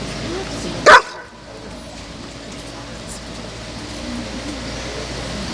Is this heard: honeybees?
no